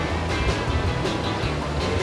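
Surf rolls in at Saekdal beach on Jeju, where strong wind and high waves draw surfers: a steady, loud wash of breaking waves and wind noise with no pauses.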